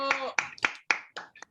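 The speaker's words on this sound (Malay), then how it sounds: "Tepukan kepada Fazura." A small group claps together for a course participant during a communication training session, giving several short bursts of hand claps in an uneven rhythm, close by and fairly loud.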